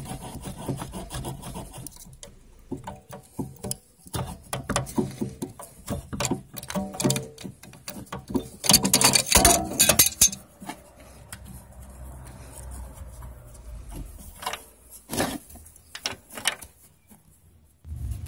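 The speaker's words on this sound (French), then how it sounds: "avec une pince multiprise, ça vient tout seul. Faire des petits va-et-vient comme ça là." Metal slip-joint pliers work a wheel sensor loose on a Peugeot 407, with irregular scraping, rubbing and clicking bursts in short back-and-forth movements, some louder clusters, and quiet gaps between.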